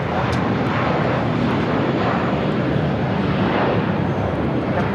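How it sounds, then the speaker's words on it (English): A 14-year-old Boeing 747-400 freighter takes off at LAX, its engines a loud, steady, broadband roar that fills the whole stretch without pause. "It's a 14-year-old 747-400 freighter"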